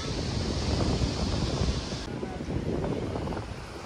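Wind gusts and rolling sea waves on a beach in Israel in the early evening, a steady broadband roar that is fairly loud and continuous, with no voices.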